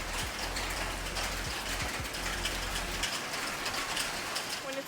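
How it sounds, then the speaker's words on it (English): Steady rain patters and hisses on surfaces nearby, with a low hum under it for the first few seconds. "it's really cloudy and raining"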